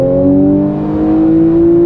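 A Porsche 911 GTS engine revs steadily in second gear, a loud, sustained engine drone with a slowly rising pitch and no talk over it.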